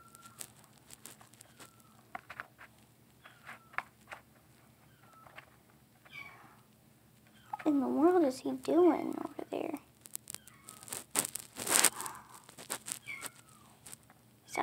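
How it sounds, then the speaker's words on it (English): A pet cat meows repeatedly at close range, a run of wavering, drawn-out cries in the middle of the stretch, with a person talking before and around the calls. "he's still meowing"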